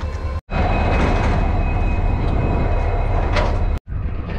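Steady rumble of a train with a metallic hum and clanks as a WDG-4D diesel locomotive is coupled to the Kollam Express, continuous and fairly loud, briefly cutting out twice.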